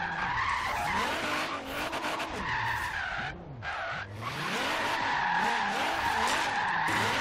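Loud, continuous tire squeal from a slammed Nissan 240SX drifting in Forza Horizon 3, with the revving engine wavering in pitch under sustained skidding throughout.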